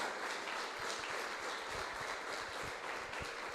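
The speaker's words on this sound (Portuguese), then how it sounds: "Você pode aplaudir ao Senhor, aleluia!" A church congregation claps together in a sustained, dense burst of applause that fills the room evenly from start to finish.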